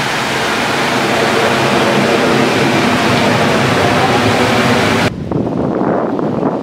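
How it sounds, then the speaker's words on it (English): A waterfall at a hotel kids' pool in the Philippines roars as a steady, loud broadband rush of falling water that covers most of the clip, then drops abruptly to a quieter wash near the end. "Here's the kids' pool. Waterfall right now."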